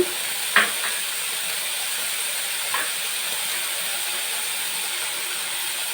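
Mountain spinach leaves sizzle steadily in a hot pan, a constant frying hiss with two short scraping stirs near the start and a fainter one later, no voices.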